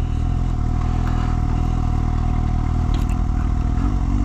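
A Suzuki GSX-S 750 motorcycle engine drones loud and close from the rider's position, a constant rumbling roar holding steady without pause.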